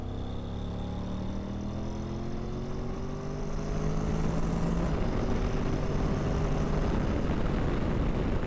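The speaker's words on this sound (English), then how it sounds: "I'm just going to open it up in second gear and we'll see what happens" A Honda motorcycle accelerates hard in second gear, its engine note climbing steadily in pitch and growing louder as it pulls, ending in a rougher, fuller roar, with no talk over it.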